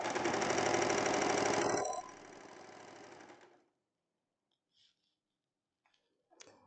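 A sewing machine stitching a hem in crepe fabric on a summer tank top, running loud and steady up close, then slowing to a softer hum and stopping, followed by a few faint clicks.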